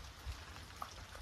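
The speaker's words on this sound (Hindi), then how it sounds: "बारिश पड़ रही है बहुत सही" Rain falls outdoors in a steady, soft hiss with a few scattered drop impacts, faint and with no voices.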